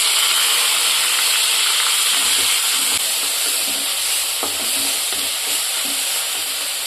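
Mustard seeds, curry leaves, chilies and chopped onion fry in hot oil for a Karnataka-style okra sambar, giving a steady close sizzle and hiss with light stirring clatter and no talk.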